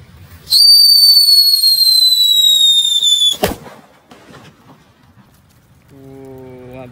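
A jumbo Super Kaget firecracker set off inside a paper bag gives one sharp, loud bang after a long shrill whistle, followed by crackling debris and quiet outdoor background, with a faint second whistle rising near the end.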